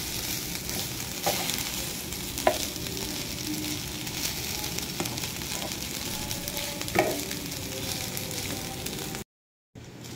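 Fried rice with spring onion being stirred in a hot pan, a steady close sizzle and frying hiss running throughout with scattered scraping clicks from the spatula, ending in a brief silence.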